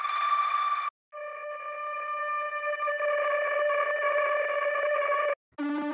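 Signature trailer sound effects for EMINENCE: sustained, heavily processed synthetic tones with rich harmonics, shifting movement and a rattling texture, played alone in three separated phrases, the last one brief and lower.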